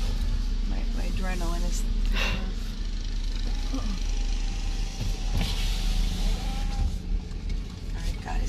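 A car drives along, heard from inside the cabin: a steady low engine and road rumble, with a window motor whirring briefly. Excited voices talk over it throughout.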